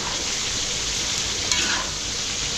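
Food being sautéed in a busy restaurant kitchen gives a loud, steady sizzle with a brief stirring scrape midway, close and continuous with no talk.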